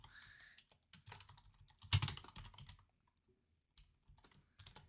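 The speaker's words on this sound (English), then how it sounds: "we can type Python commands such as print" Computer keyboard keys clatter in quick, irregular bursts while Python commands are typed into a terminal on Windows. The keystrokes are close and quiet, with brief gaps and one louder cluster of clicks.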